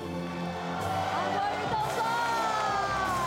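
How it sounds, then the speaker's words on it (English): Applause and cheering fill a hall at the KMT national party congress as Han Kuo-yu is nominated presidential candidate, a sustained crowd roar with a voice speaking over it and a rising tone audible through the noise. "To the sound of applause"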